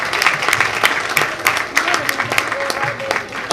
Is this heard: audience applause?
yes